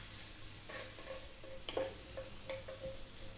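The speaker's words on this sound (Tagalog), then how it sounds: "So mag-i-start na po tayo mag-saute. Unahin po natin yung ginger." Ginger sautés in a pan with a faint, steady sizzle, broken by a few light scrapes and clinks of stirring, with no talking.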